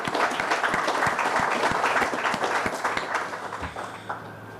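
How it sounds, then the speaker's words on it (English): Audience clapping at a groundbreaking ceremony for a Second Harvest food bank warehouse in Houma, dense at first, then thinning and fading out toward the end. "Let's give a round of applause"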